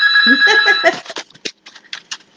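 A loud, close phone ringtone sounds as a sustained electronic tone, then breaks into a string of short chirping beeps that grow sparser and softer.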